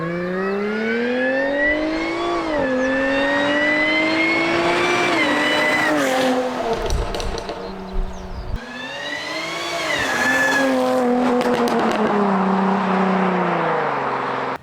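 A supercharged car revs hard and pulls away down a road, its engine and supercharger whine rising and falling through repeated gear changes, loud and close, with a brief lull mid-run before it accelerates again.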